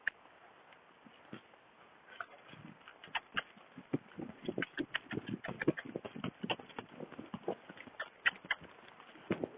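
Hoofbeats of a ridden horse moving off at a walk into a steady gait, a close series of irregular clopping thuds that quicken and grow louder over the stretch, with no talk.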